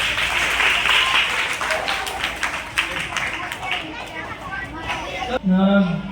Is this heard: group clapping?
yes